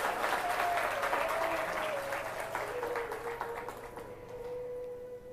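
Audience at a religious discourse by Jaya Kishori applauding to welcome guests from Mathura, a lively burst of clapping that gradually fades, with a sustained musical tone beneath it.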